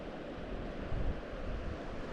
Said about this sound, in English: that is the River Dee in Aberdeenshire, carrying a little bit of snow melt and a little bit of rain